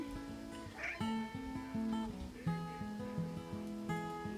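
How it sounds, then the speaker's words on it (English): A cat meows once, fairly close, over a steady tonal musical background with a repeating low pattern. "Can you hear my cat just being a total jerk?"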